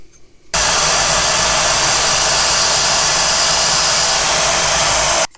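A cutoff disc cuts a slot in a knife maker's handle broach, a loud, harsh, steady grinding whine that starts abruptly, holds evenly for about five seconds, and stops suddenly, close and without talk.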